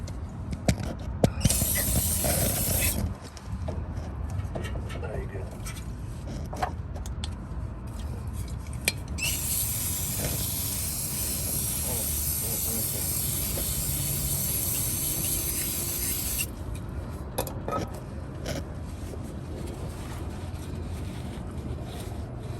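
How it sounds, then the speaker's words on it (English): Brake cleaner sprays in strong hissing bursts over the axle seal area of a Honda Civic, loud and close, a long steady jet broken by short pauses and faint metallic clinks, no talking. "We're gonna go ahead and clean this out with some brake cleaner"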